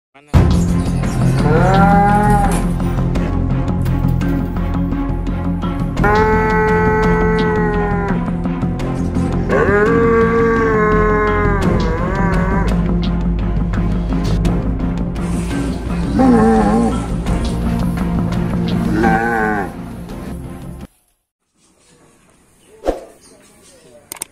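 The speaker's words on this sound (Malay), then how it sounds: "Inilah sapi baru yang telah sampai di kandang" Newly arrived jumbo cattle in a pen let out several long, loud, close moos over a constant background, which cuts to near silence near the end, followed by one last brief call.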